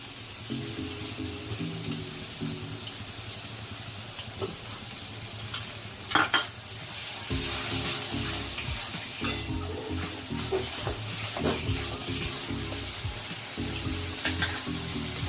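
Ginger-garlic paste sizzles steadily in hot oil for a Bengali fish egg curry, with repeated scraping stir strokes and a few sharp clinks of a spoon against the pan.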